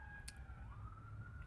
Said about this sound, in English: Can you hear the sirens?